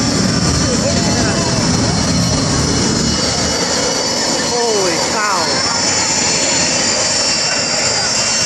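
Green Mamba jet car roaring with its afterburner lit, a continuous loud, broadband jet blast up close with shifting whine tones rising and falling, and people talking faintly beneath it.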